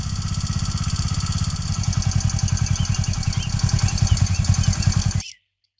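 Close motorcycle engine thumps in a fast, even rhythm, rising slightly in loudness as it revs, then cuts off abruptly near the end.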